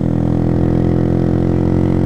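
A motorcycle engine runs loud and close with a steady, throbbing drone, holding an even pitch without distinct revs.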